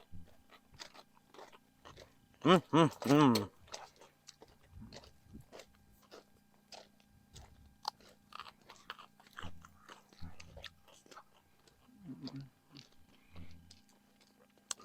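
Sweet carrots being bitten and chewed outdoors: a burst of loud crunching bites, then quieter, scattered chewing crunches against a faint background.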